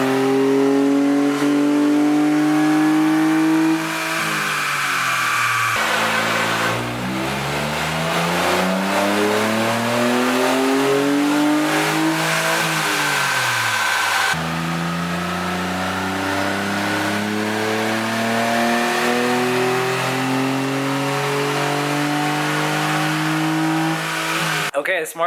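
Engine of a Smart car revving hard on a dyno after a small air filter and new intake were fitted, a loud sustained drone whose pitch climbs and falls through repeated rev sweeps, with a brief dip midway.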